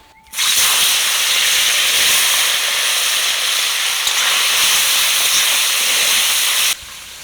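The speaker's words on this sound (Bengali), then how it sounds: "তেল গরম হয়ে গেছে এবার মাছ দিয়ে দেবো" Nundi fish dropped into hot oil in a wok burst into a loud, sustained sizzle that starts suddenly, holds steady for several seconds, then drops off sharply.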